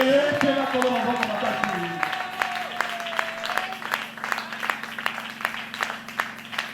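A church congregation at a Sunday service claps and cheers in acclaim to God, steady crowd applause with a voice calling out and a held sung or shouted tone fading in the opening seconds.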